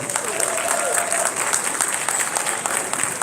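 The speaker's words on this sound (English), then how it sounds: "give a round of applause for the Gentlemen's Foundation" Crowd applause at an evening gala ball, dense continuous clapping and some cheering, loud and close, with a voice briefly audible over it.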